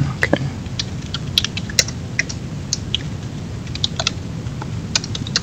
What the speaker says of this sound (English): let me try to type here